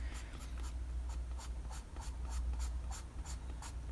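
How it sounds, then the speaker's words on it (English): A General's medium charcoal pencil scratches across paper while drawing hair, making a steady run of short, firm downward strokes at a brisk even rhythm. The strokes are close and clear, with no talking. "I'm pushing harder on my pencil as I'm pulling downwards with the pencil."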